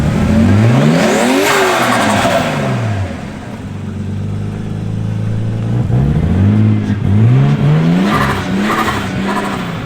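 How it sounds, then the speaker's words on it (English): A turbocharged R32 car engine revs hard in repeated bursts, rising and falling in pitch with a turbo whine, loud and close. "That makes big turbo sounds."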